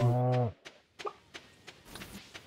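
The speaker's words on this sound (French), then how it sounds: "Il y a la vache, elle a fait meuh." A cartoonish cow in the Animal Crossing video game gives one short, loud, tonal moo, followed by a series of faint, sparse clicks and taps.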